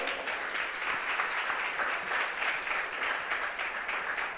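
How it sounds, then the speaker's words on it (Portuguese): Sustained applause from a church congregation at a worship service, a dense, steady wash of many hands clapping together for several seconds with no speech over it. "Você pode aplaudir o Senhor?"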